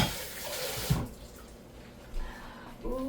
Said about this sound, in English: Let me wash my hand.